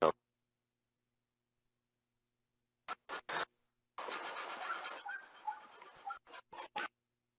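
Sandpaper rubs a wooden handle turning off center on a lathe. A few short scratchy strokes are followed by a longer abrasive stretch, then more brief strokes, all quiet and close.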